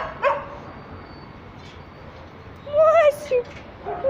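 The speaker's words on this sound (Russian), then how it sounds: "Ну что ты скулишь, Масенька?" Masenka, a dog at a homeless-animal shelter with kennels nearby, whines in a few short, high whimpers with brief gaps between them. Someone talks softly around the whimpers.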